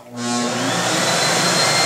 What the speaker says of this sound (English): I have made the bypass switch so I can turn the vacuum on